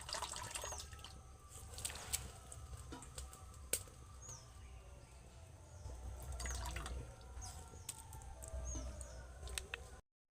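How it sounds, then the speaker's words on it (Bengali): Boiled potatoes strained through a sieve, water trickling and dripping into a bowl in a home kitchen; scattered clinks and small splashes over a steady low wash, close and fairly quiet, with a faint bird chirping in the background. "আলুগুলোকে ভালোভাবে ছেঁকে ছেঁকে দিয়ে দিতে হবে।"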